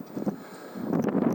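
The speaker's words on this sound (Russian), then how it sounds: "И не даст просто-напросто ветер снимать." Hurricane-force wind on a high seaside bank at Anapa batters the microphone in short rumbling bursts, dipping briefly before gusting again.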